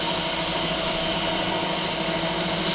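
A food processor runs steadily, its motor droning continuously while it mixes shortcrust pie pastry dough with ice water, loud and close throughout with no pauses or talk.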